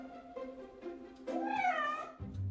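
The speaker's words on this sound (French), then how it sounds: "Elle étudie comment les miaulements des chats varient selon le contexte." A domestic cat gives a single drawn-out meow, its pitch rising and then falling, close by and clear over a quiet room, followed by a short low thump.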